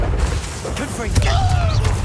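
A Confringo fire spell in Hogwarts Legacy bursts with a low booming thump and crackling whoosh during combat, short and punchy, with a voice calling out over the blast.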